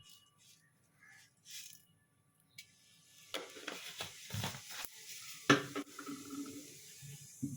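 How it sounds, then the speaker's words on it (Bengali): Cumin seeds dropped into hot oil for a tempering, with a brief quiet lead-in before a burst of crackling sizzle, light clanks of a pan and utensils, and continued spitting bursts. "তেলটা গরম হয়ে গেছে, এবার আমি জিরের ফোড়নটা দেবো।"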